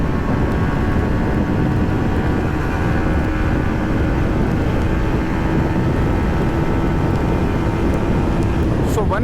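Yamaha MT-15 V2.0 motorcycle at top speed in fifth, its last gear, giving a loud steady engine drone mixed with heavy wind rush, continuous throughout without a break.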